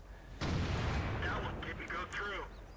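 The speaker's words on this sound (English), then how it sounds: "And now their artillery's trying to get stuck in." Artillery fire in a tank video game, heard as a sudden loud boom that decays into a rumbling tail, followed by fainter scattered impacts and mechanical clanks.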